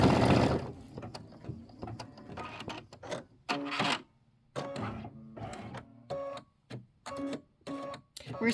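An embroidery machine stitches out a mug rug design in bursts of rapid mechanical tapping, separated by short pauses and clear at close range.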